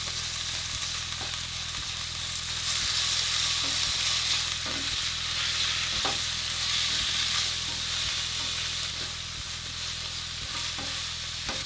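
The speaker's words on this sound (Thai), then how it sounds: "หมูนี่ที่เราหั่นชิ้นไว้นะครับ ประมาณ 200 กรัมนะ ก็ใส่ลงไปผัดได้เลยครับ" About 200 grams of sliced pork stir-fried in a hot pan, a continuous loud sizzle with steady frying hiss and faint scraping of the stirring utensil, no voices.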